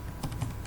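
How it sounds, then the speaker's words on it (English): Rapid keystrokes on a computer keyboard while a Python command is entered to check the Django version, several quick close clicks in a short burst with no voice. "Then I will check my Django version by typing another command line python -m"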